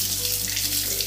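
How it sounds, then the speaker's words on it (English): Slightly warm water runs steadily from a kitchen tap for mixing whole wheat bread dough, a continuous close splashing hiss with no talking. "First step, Jacob, is we want to get slightly warm water, a little warmer than body temperature."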